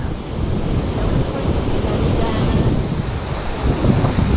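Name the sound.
wind blowing into microphone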